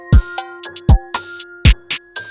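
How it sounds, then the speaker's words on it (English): A BWB Wave X Rim 20 rim shot sample clicks crisply inside a hip-hop beat, with several sharp percussive hits in a quick, uneven rhythm over a sustained tonal layer. "rim shot, which is the BWB Wave X Rim 20"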